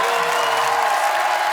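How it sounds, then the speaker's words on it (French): An audience claps together for the mothers on a French entertainment show, a dense, even round of applause from a crowd with faint cheering mixed in. "on applaudit nos mères"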